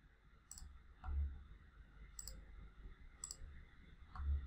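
A computer mouse clicks several times, sharp faint taps spaced about a second apart over a quiet hum of room noise.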